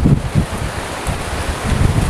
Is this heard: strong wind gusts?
yes